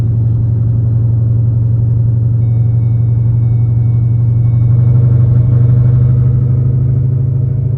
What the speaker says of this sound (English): I don't know if y'all can hear it on the camera, but it is bucking again